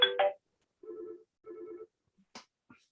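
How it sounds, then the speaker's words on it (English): A phone rings with an incoming call: two short, even electronic ring bursts sound faintly in a quiet room, followed by a few small clicks. "sorry, getting a phone call"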